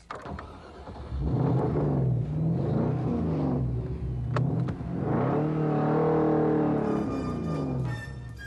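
A Ginetta G33 sports car's engine revs as it drives, with a steady mid-pitched growl that rises and falls through two strong pulls, heard clearly on its own with no talking.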